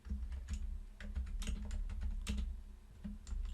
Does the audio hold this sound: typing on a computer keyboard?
yes